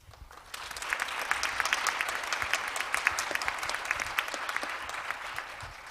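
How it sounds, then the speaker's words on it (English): An audience at an international judicial conference breaks into applause, starting quietly and swelling within a second into steady, even clapping from many hands that holds to the end with no voices over it. "Let's express our gratitude with a big round of applause for Justice Wilson."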